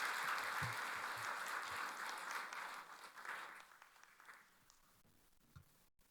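Applause from a church audience at an outdoor Sunday afternoon service, dense and steady at first, then thinning out and fading toward the end.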